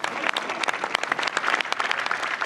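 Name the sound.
crowd applause at race podium ceremony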